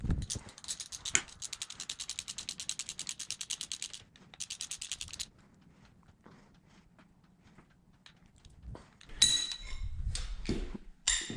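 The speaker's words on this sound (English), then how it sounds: "we're just gonna go ahead and get our 3 cam bolts started in there. Then we will torque those down" Cam bolts are threaded in and tightened on an LS1 engine in a 1967 Camaro, with rapid ratchet clicking in two bursts, then quiet handling and a few metallic clinks and knocks, up close.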